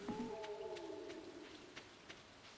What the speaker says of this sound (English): The green rain.